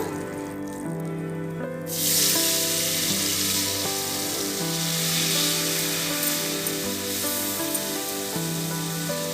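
Half a cup of water is poured into a frying paste of turmeric and Kashmiri chili for hilsa curry, and a loud hissing sizzle suddenly erupts and then persists over steady background music.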